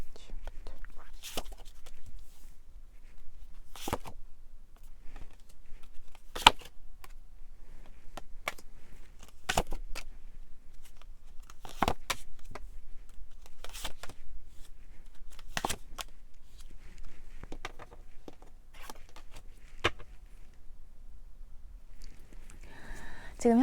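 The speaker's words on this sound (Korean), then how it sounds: "그러면 메시지 카드 뽑아보겠습니다" Tarot message cards are shuffled and drawn in a quiet room, a dozen or so sharp papery snaps at irregular intervals, faint and close, with a soft voice murmuring between them.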